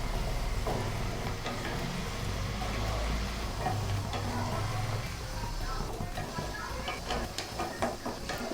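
Kathi bhaja strips of shakarpara dough crackle in hot oil with a dense, steady frying hiss, while irregular clinks and ticks of a utensil grow busier toward the end.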